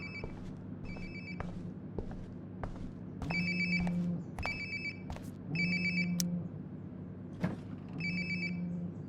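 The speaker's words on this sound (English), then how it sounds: "Sounds like my phone is definitely nearby." A cell phone ringing in Life is Strange: Before the Storm, repeated bright electronic ring bursts in a steady pattern over a low room hum, fairly close, with no talking.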